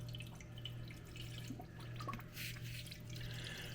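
Water runs and drips from a refrigerator water dispenser being tested after repair on a KitchenAid, Whirlpool or Kenmore unit, a faint, steady trickle under a low appliance hum with occasional splashes.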